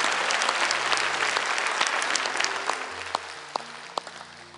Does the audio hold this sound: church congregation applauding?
yes